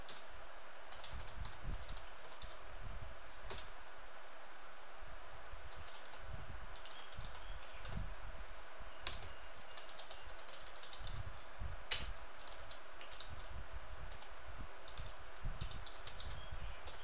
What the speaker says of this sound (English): So I'll just type it up as we go.